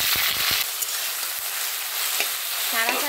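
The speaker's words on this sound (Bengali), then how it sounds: "ছাড়া ছাড়া করে শাপলাটা ভেজে নেব।" Water lily (shapla) stems salted and pressed into hot oil, frying with a loud continuous sizzle at moderately high flame, with a few scrapes and clinks of stirring early on and near the end.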